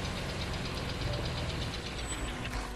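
A car engine rumbles steadily while driving in the video game Far Cry 2, a continuous low, knocking drone at moderate level with no speech over it.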